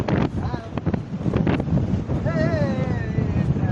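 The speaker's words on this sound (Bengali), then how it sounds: "প্রচণ্ড পরিমাণে হাওয়া এদিকে উত্তাল ঢেউ আমাদের দিকে ছুটে আসছে" Strong wind by the sea at an estuary, gusts buffeting the microphone over the rush of waves, with a voice talking over it.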